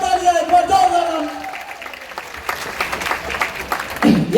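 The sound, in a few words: loud applause from the audience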